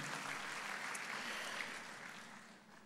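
Church congregation applause during an online service, a faint, even wash of many hands clapping that slowly fades toward the end.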